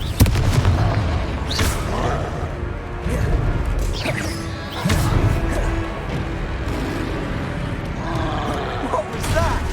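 The Confringo explosion spell is cast in Hogwarts Legacy, with crashing, roaring blasts and booms amid busy combat noise. Voices talk over the action.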